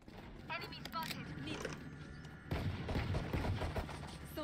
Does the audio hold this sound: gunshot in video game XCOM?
yes